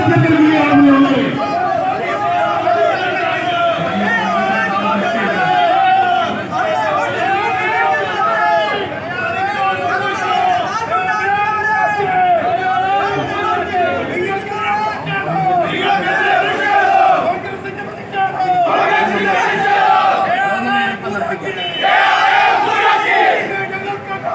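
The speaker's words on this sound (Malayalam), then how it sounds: "സമരത്തിനെത്തിയ ജനക്കൂട്ടം പോലീസുകാരുമായി മൽപിടുത്തം നടത്തി ഉള്ളിലേക്ക് കയറാൻ ശ്രമിക്കുമ്പോൾ" A protesting crowd scuffles with police while trying to force its way inside, a loud mass of shouting, chanting voices and agitated chatter that stays close and continuous, with a brief lull partway through.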